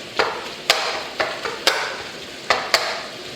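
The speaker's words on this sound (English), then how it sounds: "I'm going to throw the sausage in. Get that broken up." Sausage sizzles in a pan for breakfast fried rice while a utensil breaks it up, giving a low hiss under a series of sharp, irregular scraping clacks close by.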